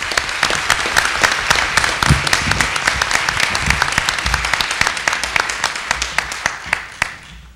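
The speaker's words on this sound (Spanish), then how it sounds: "Recibamos con un cálido aplauso a Silvia Melgem." A room full of people at a book launch in Mexico on mergers and acquisitions applauds a speaker with loud, dense, sustained clapping that starts to thin out near the end.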